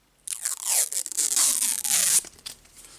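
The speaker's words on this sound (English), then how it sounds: "remove all of the plastic" Protective plastic film being peeled off parts of a 6000mW 2-axis DVP6550 laser CNC kit: a close, loud, continuous crackling tear lasting about two seconds with small fluctuations, ending abruptly, then a few faint rustles, no talking.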